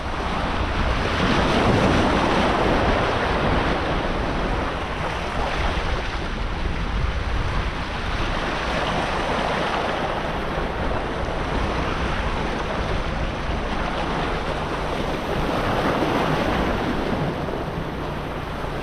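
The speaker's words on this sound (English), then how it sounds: "Waves are crashing over my my calves right now." Ocean waves crash over a jetty, loud rolling surges of surf with gusty wind buffeting the microphone, continuous and close with no talk.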